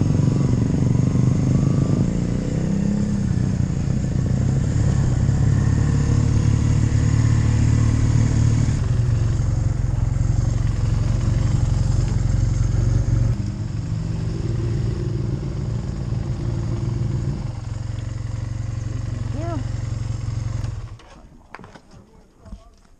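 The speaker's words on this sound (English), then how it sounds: "We're the ones making up a racket with our bikes." Several motorcycles ride together on a group ride near Port Royal, a loud continuous engine drone with low rumble that steps down in pitch around gear shifts, fading near the end, with muffled voices over it.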